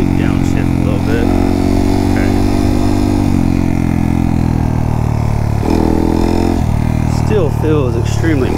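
A Honda Monkey motorcycle engine drones loudly and steadily on a trail ride, its pitch stepping down several times as the rider downshifts.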